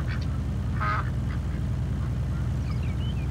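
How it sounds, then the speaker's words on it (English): Ducks in Farming Simulator 19 quack a few times, faint and irregular, over a constant low ambient hum. "Like the ducks are back in."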